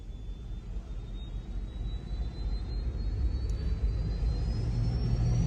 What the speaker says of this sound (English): they got a little engine on that boat